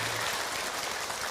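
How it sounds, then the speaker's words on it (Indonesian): A crowd applauds an Indonesian religious lecture, a dense steady wash of clapping hands that stays even and moderately loud throughout, with no voices over it. "Tepuk tangan buat ibu"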